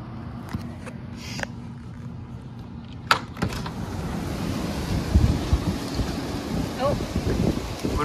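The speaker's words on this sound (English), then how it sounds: "Our first thunder, first lightning strike." Thunder from a December 2021 derecho storm in Iowa arrives as a sharp crack followed by a deep rolling rumble, mixed with gusting wind buffeting the microphone.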